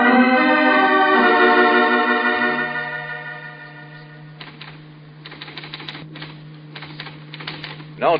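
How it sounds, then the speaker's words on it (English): A manual typewriter clatters with rapid keystrokes and carriage sounds in an old radio drama scene, following a sustained musical chord that fades out beforehand; the typing is moderately loud and irregular. "Well, I'm just typing."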